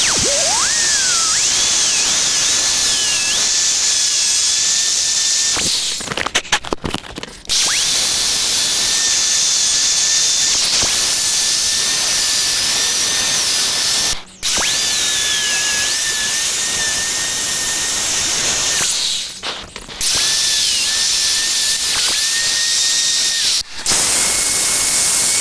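A die grinder works on a fiberglass sailboat rudder with a loud, continuous high-pitched whine and hiss. It stops briefly a few times before spinning back up.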